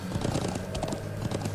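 Galloping horses from the video game Trails of Cold Steel: fast, dense clip-clop hoofbeats close and loud over a musical backing.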